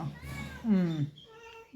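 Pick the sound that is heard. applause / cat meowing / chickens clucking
cat meowing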